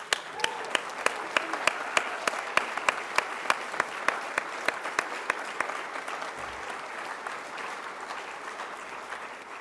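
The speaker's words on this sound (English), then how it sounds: "And how about a round of applause for that beautiful planet?" Audience applause at a New Horizons mission update event, a dense sustained round of clapping from a sizeable crowd with sharp individual claps standing out early on, continuing steadily for nearly ten seconds.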